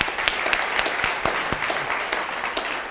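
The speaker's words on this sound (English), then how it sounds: "Round of applause for Tyler." Applause from an audience at a live interview and Q&A event, broadband clapping with sharp individual claps standing out, steady and moderately loud throughout the short burst.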